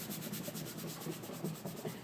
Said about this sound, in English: So all I'm doing now is just smoothing it on from the back side.